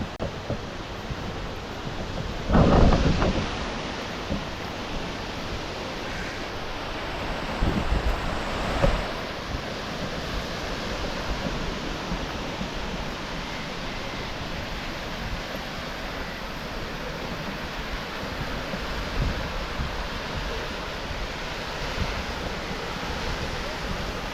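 Sea waves at Guliakhali sea beach wash in as a steady, broad surf roar mixed with wind buffeting the microphone, with a couple of louder surges early on and no talking.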